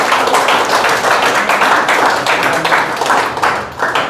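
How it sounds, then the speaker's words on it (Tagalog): A church congregation claps loudly together in praise, a dense, close burst of many hands with a rapid, slightly rhythmic texture that continues strongly throughout. "Malakas ka na palakpak para sa Panginoon."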